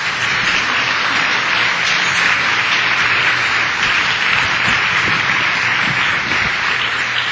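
A church congregation applauds steadily throughout, a dense, even wash of many hands clapping at close range with no pause, filling the hall.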